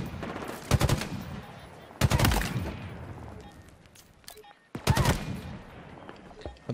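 Battle rifle fire in Halo Infinite: three separate bursts of rapid shots, each a sharp clattering volley that fades into rumbling reverb before the next one, moderately loud.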